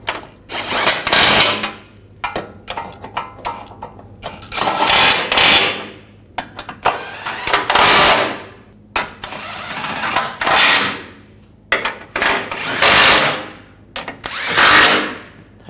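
A hand ratchet clicks in quick repeated strokes, close and loud, as it tightens the thermostat housing bolts on a 2008-2012 Jeep Liberty 3.7L V6. The bursts come in an irregular rhythm across the whole stretch.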